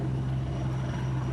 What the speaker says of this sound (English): One of more than a dozen helicopters in just the last hour hitting the hot spots here in the El Dorado fire